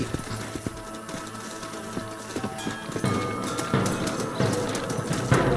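Horse hooves clip-clopping in Red Dead Redemption as riders slow and dismount, irregular thudding steps under wind and ambient game sound, growing busier toward the end.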